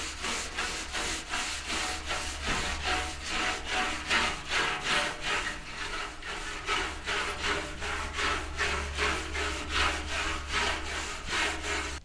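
A soft bristle brush scrubs a dirty Lanair waste oil heater in steady back-and-forth strokes, a loud, continuous rasping rhythm over a low hum, with no talking.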